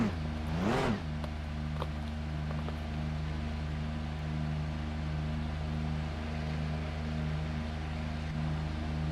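Race car engine in Assetto Corsa Competizione at Monza, holding a steady loud drone with a brief rising-and-falling rev surge at the start, then sustained constant engine tone.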